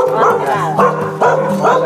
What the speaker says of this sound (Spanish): Ah, es su perrito